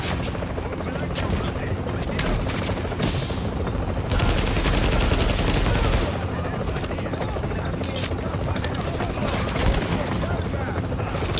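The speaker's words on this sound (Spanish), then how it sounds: "Ha sido pegar un tiro y ya me ha dado a alguien" Dense gunfire rattles through a firefight in The Division, with bursts of automatic shots and a continuous roaring drone beneath, loud and close, while someone speaks excitedly over it.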